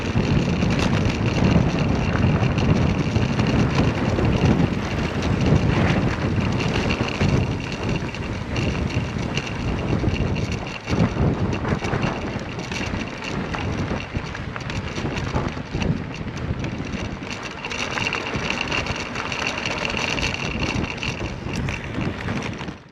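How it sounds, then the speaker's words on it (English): Strong headwind buffeting a microphone while cycling along the Mawson Trail between Quorn and Cradock, a loud, continuous low rumble and roar with gusty swells throughout and no talking. "Pushing into this headwind"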